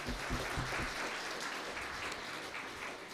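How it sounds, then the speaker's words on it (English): A large crowd at an alumni meet claps in a sustained round of applause, dense and steady for the whole stretch, with no voices rising above it. "I need a huge round of applause for Vaiz."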